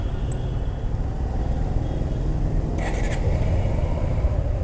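A motorbike engine restarted after a battery replacement idles steadily, a continuous low rumbling drone heard nearby with a few faint clicks on top.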